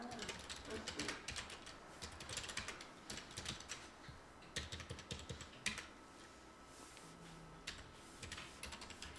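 Computer keyboard keys tapped while entering text into cells of an Excel spreadsheet, with irregular clusters of quiet clicks over a constant low room hiss, faint and close.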